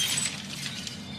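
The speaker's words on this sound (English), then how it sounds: "Now a stylish glass coffee table." A glass coffee table shatters after being thrown off a 20-story building, a loud burst of breaking glass with bright clinking shards scattering for about a second, heard alone.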